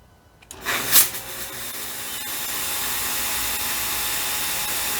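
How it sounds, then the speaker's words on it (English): A 1200W remote-controlled fog machine switches on after a moment of near silence, giving a short sharp burst and then a steady, even hissing rush of fog that continues alone to the end. "then we can start operating the fog machine"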